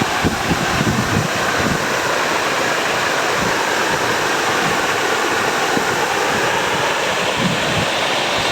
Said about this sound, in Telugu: చెరువులో నీళ్ళు వస్తున్నాయి